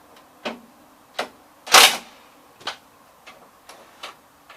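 Bolts are worked loose on the deck of an Allis Chalmers B10 tractor, giving a series of separate sharp metallic ticks and clicks at an uneven pace, with one louder clank in the middle.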